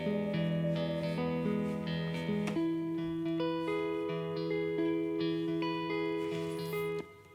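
Clean electric guitar for a movie trailer score, playing a gentle picked melody of single notes and chords that ring and overlap, steady, fairly quiet and close, with no voices.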